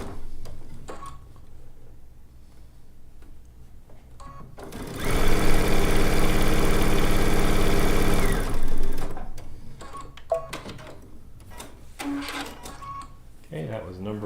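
A sewing machine runs loud and close for a few seconds as it stitches a seam in a zig zag quilt, with quieter clicking and rustling before and after.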